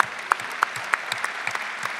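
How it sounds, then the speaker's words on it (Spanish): Close, lively applause from the audience at a provincial education union congress, with some sharp individual claps standing out from the steady crowd clapping, and no talking. "Guillermo Sherpin, un fuerte aplauso para él,"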